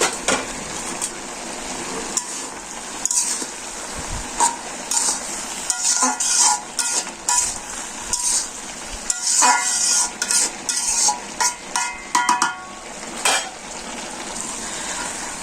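A pot lid lifted and vegetables stirred in a village kitchen pot while dried-fish curry cooks, giving scattered scraping and clinking taps over a soft sizzle, close and moderately loud with no talk.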